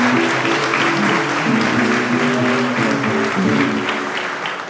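Congregation in a parish church applauding the Virgin Mary on the feast of Our Lady of Hope: steady, loud clapping throughout, with a sustained low tone, like organ or voices, running underneath.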